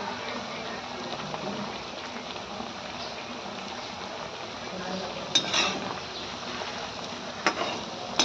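Herbs frying in oil in a pot for a homemade hair oil give a steady, low bubbling sizzle, with a few sharp utensil scrapes and clinks near the end.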